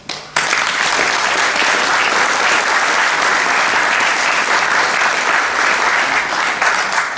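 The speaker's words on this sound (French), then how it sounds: "ces personnes que je viens de citer méritent vos applaudissements" A hall audience at a Great War centenary commemoration in Dieuze applauds the event organisers with dense, steady clapping that starts abruptly and holds loud and even throughout, with no voices over it.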